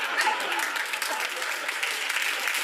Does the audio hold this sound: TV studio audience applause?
yes